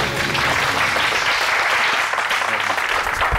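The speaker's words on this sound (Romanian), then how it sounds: "M-am aplaudat și eu." Loud, dense applause from a group fills the moment in a cooking-competition final, sustained and close without pause.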